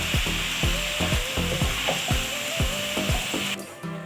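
Maggi noodles with capsicum and cabbage frying in a pan, loud continuous sizzle broken by rhythmic scrapes and knocks of a stirring spoon, no voices.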